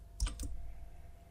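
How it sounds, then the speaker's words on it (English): Two quick, soft clicks of keys on a computer keyboard, the Y key then Enter, close by in a quiet room. "I'll make it yes by typing Y and enter."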